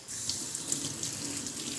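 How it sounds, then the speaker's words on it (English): Water runs steadily from a sink faucet in a continuous, close, even splashing hiss, with no voices over it. "Let's go over to the sink here."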